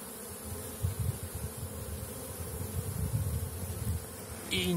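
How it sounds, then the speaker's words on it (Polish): A dense, continuous buzz of many honey bees carrying water near the hive during intensive brood rearing, with individual bees droning louder as they pass close. "Pszczoły noszą wodę."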